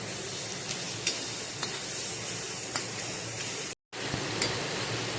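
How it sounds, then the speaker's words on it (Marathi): Ginger-garlic paste frying in a pan, a steady loud sizzle throughout with a few faint scraping stirs and a brief dropout near the end, no voices. "त्याच्यामध्ये आपण आता आलू लसूण पेस्ट टाकतोय आणि ती पण चांगली भाजून घेतोय"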